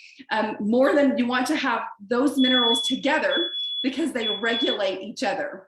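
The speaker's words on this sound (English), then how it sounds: "that's my smoke alarm going off" A household smoke alarm beeps as a steady, thin high-pitched tone for a couple of seconds in the middle, under continuous talking.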